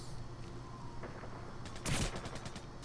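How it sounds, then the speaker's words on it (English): Bursts of rapid gunfire crackle at a distance in Call of Duty 4: Modern Warfare, a short volley followed by a louder, closer rattle of shots. "we can hear some gunfire, so we know there's another guy over there."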